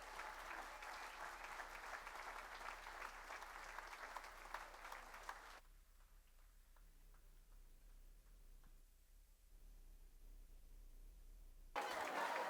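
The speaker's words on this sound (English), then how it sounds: "give yourself a round of applause for your generosity tonight" Applause from the crowd at the Walking Mountains Taste of Nature gala runs steadily for several seconds, then drops to a quiet room with faint ticking before clapping swells again briefly at the end; overall fairly soft.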